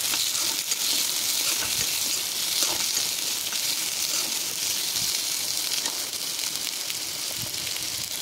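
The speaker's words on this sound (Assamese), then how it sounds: "আদা নহৰু বিলাহী একেলগে মই ড্ৰাই ফ্ৰুটছখিনিও দিম এইখিনি ধুনীয়াকৈ লৰাই দিম" Ginger, garlic, tomato and dry fruits are stir-fried together in a pan for a lady finger dish, giving a constant loud sizzle with occasional faint stirring taps.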